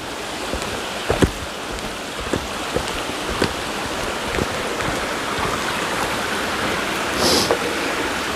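A river flowing beneath a new wooden footbridge on the Appalachian Trail, heard as a steady, broad rushing wash of water with a few faint knocks and scuffs on top.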